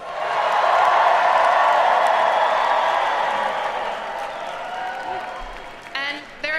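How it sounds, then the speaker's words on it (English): At an election night event, a crowd applauds and cheers for a supporter, a dense, loud wash of clapping that holds steady for several seconds and then fades as a voice begins speaking. "please join me in giving Zoran, our friend, a round of applause"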